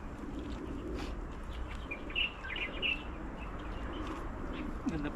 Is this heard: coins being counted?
no